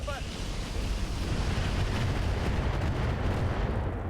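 Mech weapons fire on a Blackjack in the BattleTech mod RogueTech, a dense, loud rumbling barrage of blasts and booms rolling continuously for a few seconds, with a voice briefly heard at the start.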